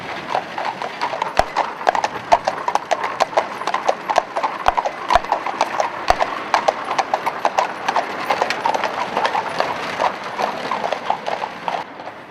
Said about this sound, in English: One man is holding the reins for the sider, and one man is controlling the horse in the shafts.